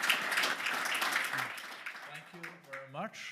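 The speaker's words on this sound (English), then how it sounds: "I think the panel deserves a big applause." Audience applause for a panel at the Davos 2024 forum, a dense wash of clapping that thins out after about two seconds as a voice begins speaking over the tail.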